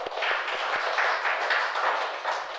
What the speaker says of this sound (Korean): 우리 다시 한번 여기까지 인도하신 하나님께 영광의 박수를 올려드리도록 하겠습니다